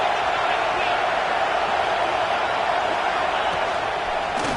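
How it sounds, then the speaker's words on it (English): Ohio State Buckeyes football crowd roaring steadily at a packed stadium during a third-down play against NC State, a dense, continuous wash of cheering noise at high level throughout. "The Buckeye crowd alive on third down."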